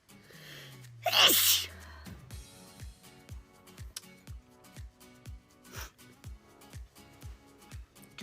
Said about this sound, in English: back from vacation and it's my first sneeze.